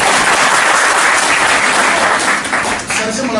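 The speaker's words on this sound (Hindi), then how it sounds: "जोरदार तालियां बजाएं।" Loud, dense applause from an audience at a coaching-centre gathering fills the whole span, steady and close, fading slightly near the end.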